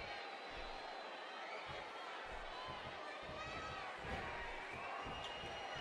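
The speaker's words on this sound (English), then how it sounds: "You can feel the energy bouncing off this Alamargo crowd here tonight." A large wrestling arena crowd at a WWE Raw match roars steadily throughout, a dense distant wash of cheering with a commentator talking over it.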